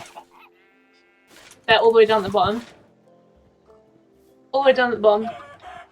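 Clucking bursts from ender chickens in the Minecraft video game, two short rhythmic clusters of squawky fowl calls separated by quiet, with a person talking softly between them.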